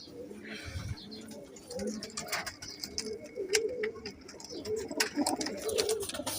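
Pigeons in a loft coo repeatedly in low, rolling calls, fairly close, with scattered clicks and rustles around them and no speech.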